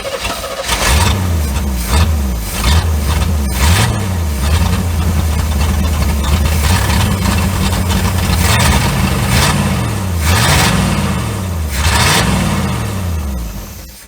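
A 1972 Chevrolet C30 truck engine long left abandoned on a farm runs rough and loud, repeatedly surging and sagging in uneven revs without settling into an idle.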